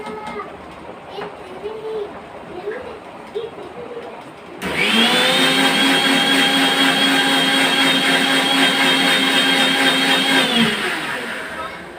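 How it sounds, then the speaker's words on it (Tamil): An electric blender whips oil into mayonnaise, starting abruptly mid-clip as a loud, steady high-pitched motor whine that holds for about six seconds, then winds down; a voice talks faintly beforehand. "ரொம்ப சூடாகக்கூடாது நிறுத்தி நிறுத்தி அடிக்கணும் அப்போ தான் மயோனோஸ் நல்லா வரும்"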